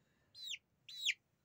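Three-week-old chicks, one judged a young hen, give two loud, close chirps with a third starting at the end, each a sharp falling peep over a quiet background.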